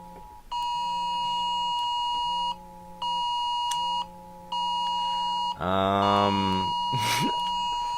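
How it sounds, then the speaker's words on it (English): Electronic alarms beep in long repeating tones indoors during extremely windy sandstorm weather, several steady bursts with short gaps, then a louder warbling alarm sweep near the end; faint wind and room noise underneath. "our alarms just went off because it's like sandstorms"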